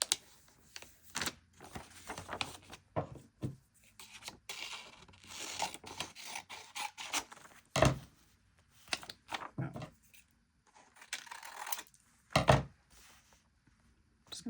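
Background paper being cut and torn for a glue craft project, with scattered close rustles, snips and thunks separated by quiet gaps, fairly faint overall.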